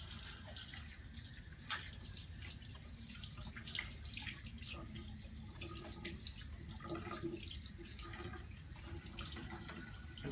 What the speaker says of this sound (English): I'm going to lather my hands for 15 to 20 seconds, ensuring that I'm cleaning underneath the fingernails and between the fingers